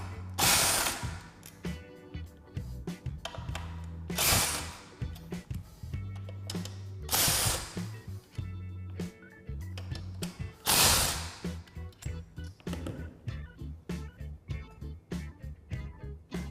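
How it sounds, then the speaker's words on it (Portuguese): Ratchet wrench with 10 mm and 12 mm sockets loosening bolts from the oil deflector of an automatic gearbox, repeated close rapid clicking strokes in bursts, with a few sharper louder passes, no talking. "Aqui são 4 parafusos, 2 são com a chave 10 milímetros e 2 são com a chave 12 milímetros. Então vamos começar pelos 10 milímetros."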